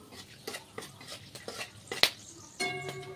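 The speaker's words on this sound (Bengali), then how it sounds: "দারচিনি লবঙ্গটা একটু তেলে নাড়াচাড়া করে নিয়ে একটু হলুদ দিয়ে দিচ্ছি" Cinnamon and cloves being fried and stirred in hot oil in a pan while cooking an egg masala curry, with scattered scraping stirs, a sharp metallic clink and a brief sizzle near the end.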